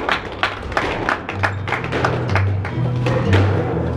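Applause at a Norwegian squash cup match fills a small hall for both players, a modest scattering of individual claps with distinct hand-claps and thumps, fairly close and uneven.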